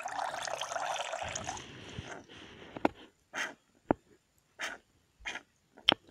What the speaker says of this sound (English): Let's try and fill him up with water now.